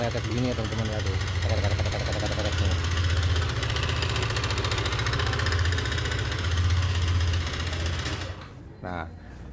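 A Yamaha Aerox scooter engine with dry oil idles with a rough, rapid mechanical knocking and ticking rattle throughout, close and steady, while someone talks over it before it cuts off near the end.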